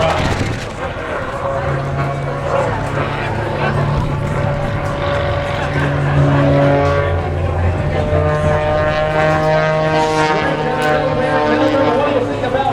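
Aerobatic airplane flown by a world aerobatic champion performing a Cobra maneuver at a Florida air show, a loud continuous engine drone with shifting pitch heard beneath an announcer talking over it.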